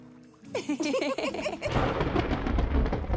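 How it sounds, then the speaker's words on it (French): A deep rumble of thunder rolls in and swells in a Barbie cartoon, following a moment of chirpy, cartoonish vocal sounds. "L'orage arrive."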